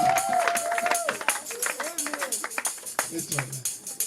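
A church congregation claps in quick, continuous rhythm for the pastor's mother, with voices calling and talking over the applause.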